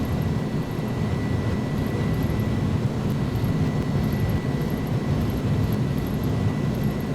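A310-300 airliner's engines in a flight simulator game hold a steady, loud broadband roar at takeoff thrust, constant throughout with a faint high whine and no talk.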